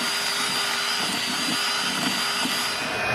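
An electric hand mixer whirs steadily while shredding cooked pot roast in a pot, a continuous motor drone with faint irregular knocks of beaters against meat, close and alone without talk.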